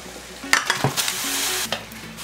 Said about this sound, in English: Start by blanching the oxtail.